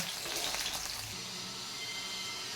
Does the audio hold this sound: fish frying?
yes